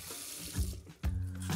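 Water runs from a bathroom sink tap during tooth brushing, a splashing stream that briefly changes as it hits the basin or a hand, then pours steadily again, close by and alone.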